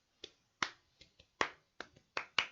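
Hands clap in a loose, uneven run of about eight sharp claps, crisp and close, with no talking.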